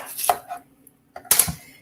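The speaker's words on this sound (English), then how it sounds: "I'm gonna cut this onion in half" A knife cutting an onion in half on a board, two short separated bursts of cutting and knocking against the board, close and fairly loud.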